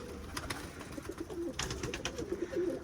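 Pigeons coo softly in a loft, a few low, rolling calls overlapping one another at close range, with faint rustling and light knocks around them.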